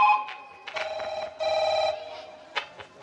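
A telephone rings in repeated electronic bursts, loud and close, with short gaps between the rings and a final softer chirp.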